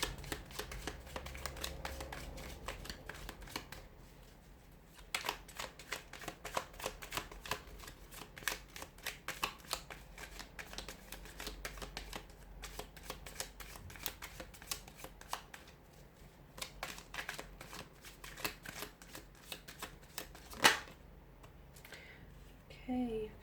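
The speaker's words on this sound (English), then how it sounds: "give the cards a shuffle and see what messages are coming in for you here this week" Tarot cards are shuffled by hand in a quiet room, giving a soft, rapid riffling and flicking that runs steadily throughout, with occasional sharper taps and a single loud click near the end.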